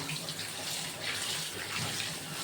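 Grated potatoes are washed under running tap water in a sink, a steady close splashing rush throughout the short stretch, with no talk.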